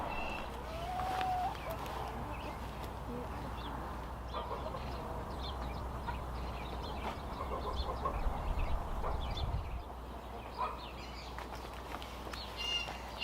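Caged backyard hens cluck and call softly at mid-distance over a steady low hum of farmyard ambience, with occasional brief bird calls scattered through.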